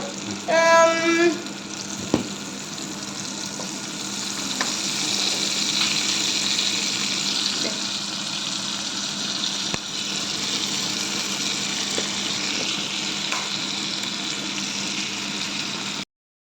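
Coated chicken fries in plenty of hot oil, giving a continuous close sizzle with a few brief clicks and knocks, after a short beeping tone at the start.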